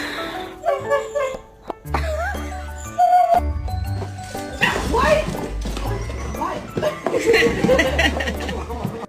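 Several dogs bark excitedly and in bursts at a mail carrier sitting in his car, with a person talking and laughing over the barking close by.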